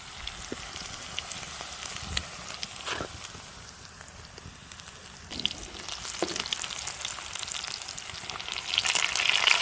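Onions fry in a pan with purslane, giving a soft, continuous sizzle with occasional light clicks and stirring taps, fairly faint and without speech.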